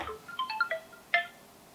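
Electronic phone ringtone plays a short melodic burst of chiming tones, then a brief repeat, clear and close with no talking.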